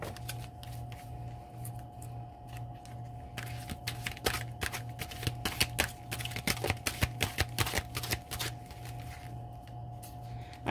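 A deck of cards is shuffled repeatedly, giving bursts of quick riffling flutters and taps over a steady low electrical hum, with no one talking.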